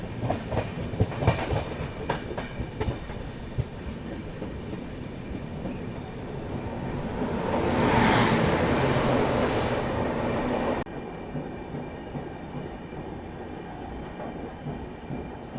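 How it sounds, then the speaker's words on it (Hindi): A diesel-hauled Humsafar express train rolling into Chakradharpur station at night, with a continuous rumble and clickety-clack of wheels and a louder wheel squeal swelling midway before the noise eases. "फाइनली चक्रधरपुर स्टेशन में हमारी एंट्री हो रही है"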